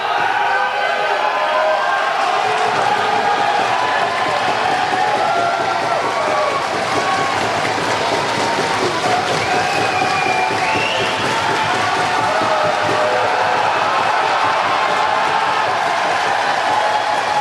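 A crowd cheers and roars steadily at a strongman competition as a competitor completes a 950-pound Hummer tire deadlift, the noise loud and continuous throughout with voices mixed in.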